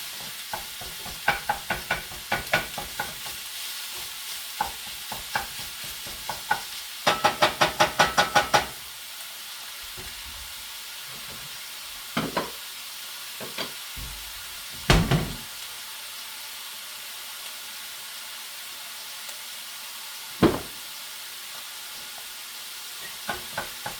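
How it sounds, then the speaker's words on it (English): Crumbled sausage browns in a pan for gravy, a soft continuous sizzle broken by bursts of spoon scraping and stirring, including a rapid flurry early on and scattered knocks against the pan later. "Just keep stirring it. You want to give it time to brown a little bit"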